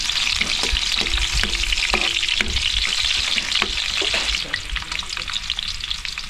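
Garlic frying in a pan as the first step of cooking a freshly caught sea crocodile dish, a dense continuous sizzle with occasional stirring scrapes, close and steady throughout.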